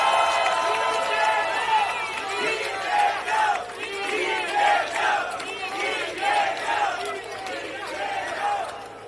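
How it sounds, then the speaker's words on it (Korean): A large crowd at a Democratic Party election campaign launch rally roars with cheers, shouts and applause, loud and sustained throughout, with rhythmic chant-like surges of voices. "여러분 힘찬 박수 함성을 부탁드립니다."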